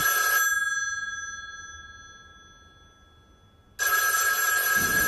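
A telephone rings with a bright, sustained bell tone, fades to silence, then rings again loudly.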